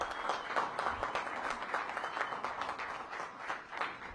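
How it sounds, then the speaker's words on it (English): Audience applauding at a downtown housing program launch, a sustained patter of many clapping hands heard from a little distance, fairly quiet and even throughout. "Give them a big round of applause."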